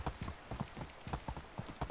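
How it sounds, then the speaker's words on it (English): Horse hooves clip-clop at a steady trot in the medieval life-sim game Medieval Dynasty, a rider's mount moving over ground with regular, moderately close footfalls and no talk. "I am going to try to ride my mount right into the tavern."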